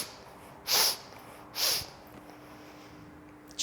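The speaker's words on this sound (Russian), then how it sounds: "шмыгание носом производим во время наклона" Two short, sharp nasal sniffs during a breathing exercise, evenly spaced about a second apart, close and fairly loud against a quiet background.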